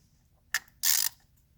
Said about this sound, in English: Bring your 10 millimeter socket over here with your ratchet. Snug that down.